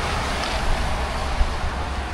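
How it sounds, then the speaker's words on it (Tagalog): Strong wind and rough waves roar continuously as a broad, rushing wash of noise, with gusts buffeting the microphone and a brief thump partway through. "Malakas yung alon. Mahangin."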